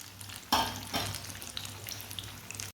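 Potato tikkis frying in a pan on a stove: a close, steady crackling sizzle, brightening sharply twice as the patties are moved or turned, then settling back to a softer bubbling hiss.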